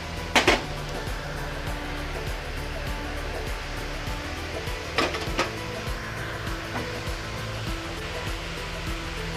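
A gas stove burner is lit in a home kitchen while cooking dal, giving a steady broadband hiss with a couple of sharp ignition clicks, one near the start and another midway.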